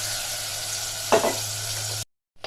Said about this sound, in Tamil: நம்ம அந்த மட்டனை அதில் போட்டு ஒரு 2 நிமிஷம் நல்லா பரட்டி விடலாம்.